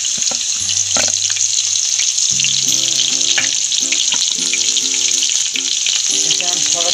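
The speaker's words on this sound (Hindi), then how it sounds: "तेल हमारा गर्म हो गया है। अब हम इसमें लहसुन डालेंगे।" Garlic frying in about five spoons of hot oil, a continuous loud sizzle with occasional stirring clinks and scrapes throughout, close up and with no talking.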